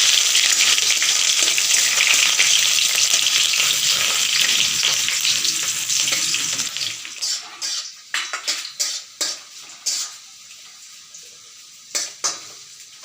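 Chopped onion with dried red chillies hitting hot oil in a pan: a loud, close, hissing sizzle that gradually subsides, followed by a series of sharp clinks of a utensil stirring against the pan.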